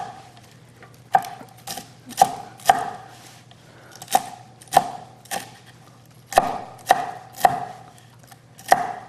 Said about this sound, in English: next you chop the stems in small pieces